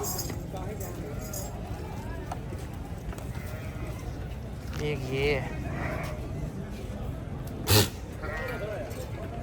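Goats bleat a few times at a busy livestock market, with faint hoof clops and clinks under near, continuous talk from a man.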